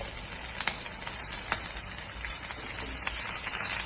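Green chillies frying in hot oil for an egg curry, giving a continuous close hiss of sizzling broken by occasional sharp pops and spatters.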